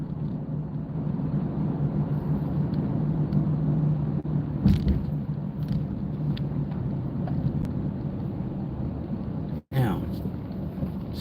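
Early-morning traffic rumbles by on a road, a continuous low roar of passing cars with a brief sharp clunk near the end, heard from close by.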